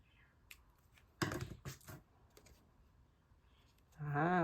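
Scissors snip a printed photo for a paper collage, giving a few quick, close clicking cuts clustered together over quiet background, followed by a brief voice at the end.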